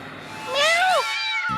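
A cartoon cat gives a single drawn-out, wavering meow, rising and then falling in pitch, loud and close with no talk over it.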